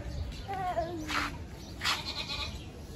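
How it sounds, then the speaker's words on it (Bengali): Several goats bleat nearby at a crowded livestock gathering, wavering cries overlapping one another amid a busy outdoor background. "ছাগল তো অনেকগুলোই আসছে বাবা"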